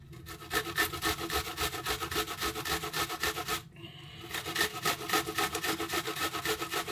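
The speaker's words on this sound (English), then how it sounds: "Then you can use the other side to grate the onion." An onion being grated by hand on a box grater for Ugandan chapati dough, giving a steady run of rhythmic rasping strokes, loud and close, with one brief pause partway through.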